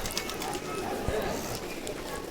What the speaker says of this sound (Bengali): সেই জালালি কবুতর